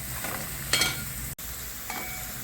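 Paneer bhurji with tomato and capsicum sautés in a pan, giving a steady soft sizzle with a couple of brief stirring scrapes, close and even, no voices.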